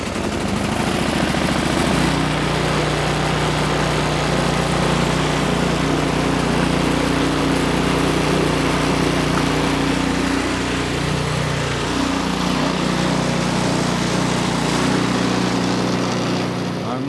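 An Ariens 30-inch deluxe carbureted snowblower engine runs loud and close, a steady droning roar with a slight shift in pitch midway, no voices over it.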